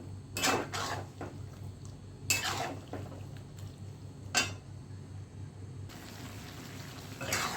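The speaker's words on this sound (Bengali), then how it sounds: "ভালো করে এবার কষিয়ে নিই এটা" Soybean curry being stirred and fried with spices in a pan, spoon scraping and clanking against the metal in a few distinct bursts over a soft constant sizzle.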